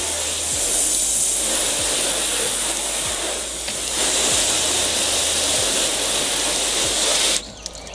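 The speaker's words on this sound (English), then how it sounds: "So let's spray some water on the front end." Water sprays onto the ceramic-coated front end of a car in a loud, continuous hiss lasting about seven seconds, then cuts off abruptly.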